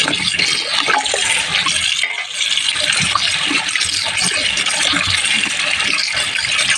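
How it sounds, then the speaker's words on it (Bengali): Cut pumpkin pieces are washed under loud, steady running water that gushes and splashes continuously at close range, with a brief dip in the flow partway through. "দেখো কুমড়োগুলো আমি কেটে নিয়েছি, এখন ধুই নিয়ে আমি"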